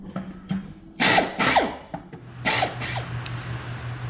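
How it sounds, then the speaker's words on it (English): Rivets, 3/16 inch, set into an aircraft wing spar during restoration of a CAC Boomerang fighter: several short bursts of pneumatic rivet-gun hammering in pairs, with a steady low hum and small taps between. "3/16 rivets going in at the moment"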